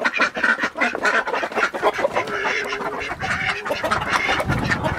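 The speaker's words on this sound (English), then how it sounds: "And here is the ducks." A crowd of ducks quacks continuously and loudly up close, with overlapping calls and some clucking fowl mixed in, no talking.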